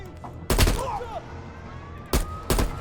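Gunfire aimed at explosive barrels in Call of Duty: Black Ops Cold War, heard as three loud, sharp broadband bursts spaced apart, with a whistling tone and quieter game ambience between them.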